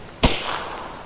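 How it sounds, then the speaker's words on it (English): A single sharp gunshot fired at a distant scav in Escape from Tarkov, one loud close crack that decays into a brief echoing tail. "There's a scav in the distance. I'm gonna shoot him."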